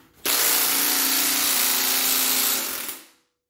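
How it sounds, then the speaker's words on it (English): Removing a bolt from a Honda D16 manual transmission produces a single continuous power-tool whir lasting about two and a half seconds, close and steady before it winds down, with no talk. "we want to take this bolt out because this is where the clip is"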